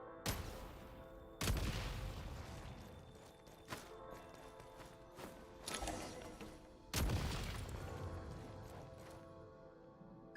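Gunshots from hip-firing in Genshin Impact, several loud sharp blasts spread irregularly across the stretch, each trailing off, with quieter game sounds between them.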